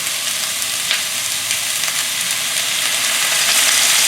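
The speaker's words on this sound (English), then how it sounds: "once you add the water, it should be boiling right away" A hot pan of stir-fried zucchini and squash sizzles strongly after a little water is added, a loud, continuous hiss with brief bursts of spitting and bubbling.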